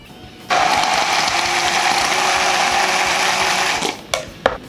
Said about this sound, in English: And then just blend everything up.